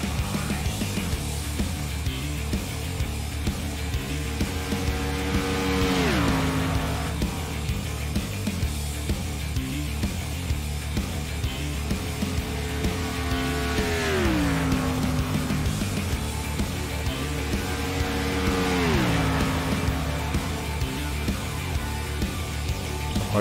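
A 99 Sinister Racing Toyota NASCAR race car on a qualifying lap at Texas roars past three times, each pass rising and then dropping sharply in pitch, over a constant heavy track drone.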